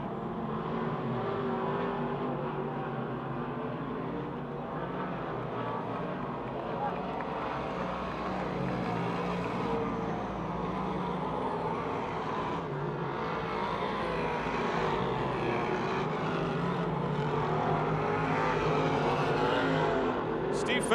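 Modified race cars circle the dirt track at Pennsylvania Motor Speedway near Pittsburgh, their engines a continuous, distant droning roar that stays steady throughout and swells slightly toward the end.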